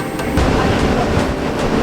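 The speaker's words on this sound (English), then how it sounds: "Here comes the train." A train rumbles steadily nearby, a continuous loud rolling roar of rail cars with faint rhythmic clatter throughout.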